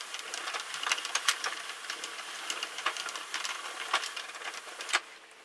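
A Sentro knitting machine cranked by hand in panel mode, producing a steady stream of rapid plastic clicks and clatters, close and fairly quiet, stopping abruptly at the end.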